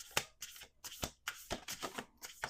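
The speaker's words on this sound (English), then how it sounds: "Last shuffle." A deck of oracle cards shuffled by hand in several quick riffling bursts separated by short pauses, close and fairly quiet, with no talking.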